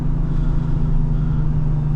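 Lexus IS350 car driving, a steady low engine drone and road rumble filling the cabin continuously from start to finish, close and even in level with no voices.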